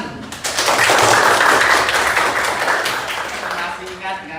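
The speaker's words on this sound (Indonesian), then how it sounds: "Nah, tepuk tangan." Classroom students clapping together for a classmate who answered correctly, a dense burst of many hands that swells quickly and then thins out over a few seconds, with murmuring voices underneath.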